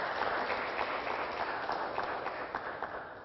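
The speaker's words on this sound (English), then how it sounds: "let's give them a round of applause" Audience applause at a Sunday love feast gathering, a steady wash of many hands clapping together, moderately loud and continuous throughout with no voices on top.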